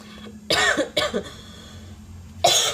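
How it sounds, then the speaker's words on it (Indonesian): Three sharp coughs ring out close by, two in quick succession and a third after a short pause, with quiet background hum between them. "sorry batuk"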